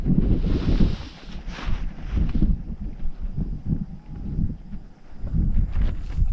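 Strong, gusty wind roars across a hilltop summit during a solo camp in bad weather, buffeting the microphone in uneven surges with no voices.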